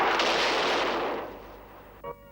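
A single deep cannon blast rolls out loud and then fades over about two seconds, followed by a short metallic ring.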